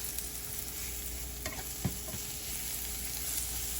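Mushrooms sauté in a pan for mahi mahi tacos, giving a steady, close frying sizzle with a few brief stirring clicks and scrapes partway through.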